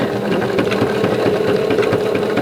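Sewing machine stitching appliqué on a quilted gnome table runner, running in a steady, close mechanical whir with a rapid needle rhythm and no pauses.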